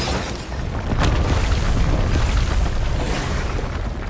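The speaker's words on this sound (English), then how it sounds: "The walls explode and the wedding hall is destroyed." Walls blasting apart in a wedding hall in the game Love and Deepspace: a loud, sustained rumbling explosion with a sharp burst near the start and another surge toward the end, dense low booming throughout.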